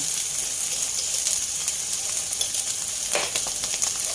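Long beans are stir-fried over high heat in a pan with oyster sauce and sugar, making a close, constant sizzle with quick stirring scrapes.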